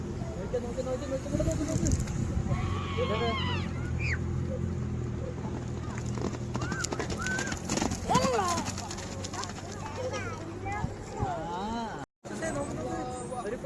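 Horse hooves clip-clop rhythmically at a horse race in Daris, Oman, while people chatter and call out nearby, with a busy outdoor crowd in the background.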